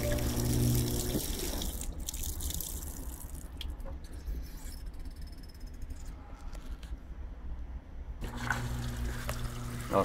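Water running inside a Brastemp Vantage 8.5 kg front-loading washing machine (BWI85A) on a light-colours cycle, a steady close trickle and splash filling the drum through the soap dispenser, continuous for the whole stretch with faint mechanical clicks.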